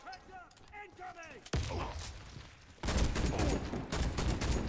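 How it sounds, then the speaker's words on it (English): Gunfire and an explosion in the first-person shooter Warface: close, loud bursts of shots and a blast in the second half, preceded by softer game sounds and a brief voice. "Ooh, grenade."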